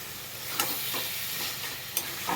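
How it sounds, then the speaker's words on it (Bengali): Boiled chicken being stirred and fried in a pan for a chicken vorta: a steady sizzle with a few sharp scrapes and clinks of the spoon, close by, with no talk. "ভালো করে নাড়াচাড়া করব। ভালো করে একটু কষিয়ে নেব।"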